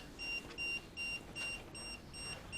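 Rapid repeating beeps from a K2 EMF meter in a house, roughly five short electronic tones in under three seconds, steady and fairly close over a faint low hum.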